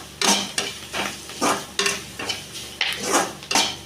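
Drumstick leaves cooked with grated coconut are stirred in a pan, a spatula scraping the metal in a steady rhythm of close, distinct strokes about every third of a second, with faint frying underneath and no talk.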